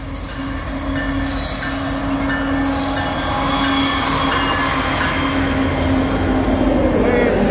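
An SCWX coal train rolls past at close range, a loud continuous rumble with squealing wheels and rhythmic clatter of wagons growing steadily louder, while a voice briefly talks in the background.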